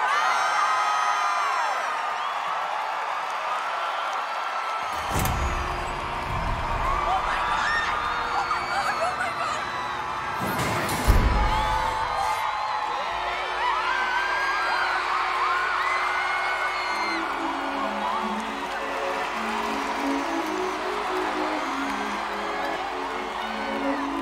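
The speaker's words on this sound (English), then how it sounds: "On three, everybody scream, Parker!" A group of people screams a name together, a loud burst of shouting over background music and other voices, with a sharp peak of yelling midway.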